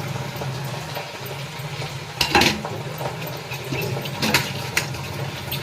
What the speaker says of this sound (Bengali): এটাকে নাড়িয়ে নিলে